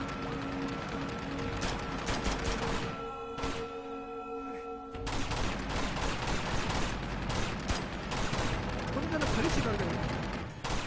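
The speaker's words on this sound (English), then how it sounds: "Landed a couple shots on him." Gunfire in the Uncharted 2 video game rattles in dense, loud bursts. A brief lull in the middle is followed by renewed rapid shots, with game sound layered around them.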